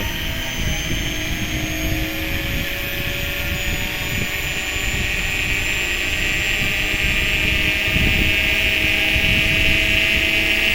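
A Kanistra cone log splitter runs at full speed, giving a loud, steady motor whine with a sustained high-pitched tone that holds unbroken throughout, no voices present.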